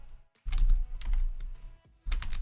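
Vim commands are typed on a computer keyboard in a few quick clustered bursts of clicking keystrokes, close and crisp, with short pauses between groups.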